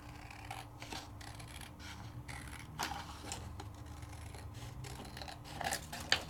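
Scissors trimming out a piece of embossed paper: faint, close snips and rubbing scrapes come in a loose rhythm over a quiet room, ending with a slightly sharper cut.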